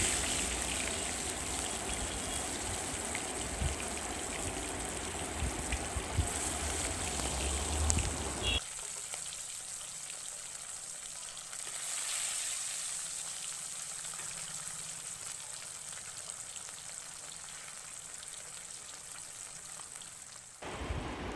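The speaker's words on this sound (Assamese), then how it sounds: "এতিয়া মাছখিনি ফ্ৰাই কৰি ল'ম" Fish sizzles in hot oil in a kadai, a dense crackling hiss that is loud and steady for the first eight seconds, then drops to a softer, quieter fry for the rest.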